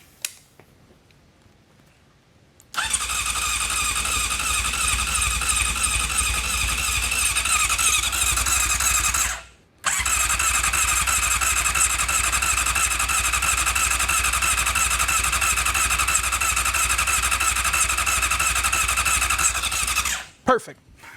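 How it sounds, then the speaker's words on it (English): A Honda CBR 600 motorcycle engine turns over on its electric starter, a loud, steady mechanical whirring cranking that runs about seven seconds, stops briefly, then resumes for roughly ten more seconds before cutting off. "when you crank it with the starter, it turns at like 100 RPM"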